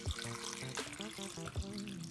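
Tap water runs into a cooking pot for vegetable broth, a steady splashing stream with a few brief knocks, heard up close under soft background music.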